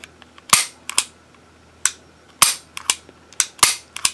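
A Beretta 92FS pistol's double-action trigger is pulled repeatedly, giving a series of sharp, close metallic clicks at irregular intervals, some in quick pairs, with quiet gaps between.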